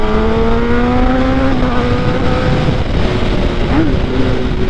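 A Kawasaki ZX10R motorcycle engine revs loud and close, its steady tonal drone rising in pitch and holding, with a brief blip near the end.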